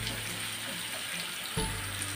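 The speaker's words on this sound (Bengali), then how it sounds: "এখন আমি কিছুক্ষণ ধরে এটা একটু হালকা ব্রাউন করে ভেজে নিব" Onions frying in a pan toward light brown for a sheat fish (boal) curry, a steady close sizzle with a low hum beneath and a brief soft bump near the end, no voices.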